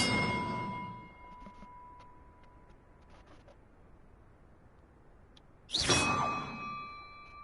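Bells ringing in Hogwarts Legacy: a bright chime with sustained overtones rings out at the start and decays over about a second, then a second loud bell strike near the end rings on, with quiet game ambience between.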